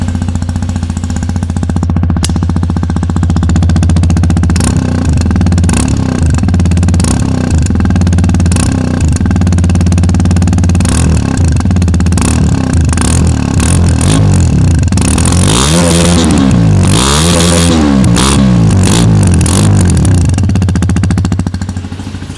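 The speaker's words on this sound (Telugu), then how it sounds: "ఒకసారి అయితే మీకు ఎగ్జాస్ట్ నోట్ వినిపిస్తుంది చూడండి." Stock exhaust of a Hero Xpulse 210 motorcycle, loud and close, holding a steady idle rumble before being blipped through a series of rising and falling revs in the last third, with no talk.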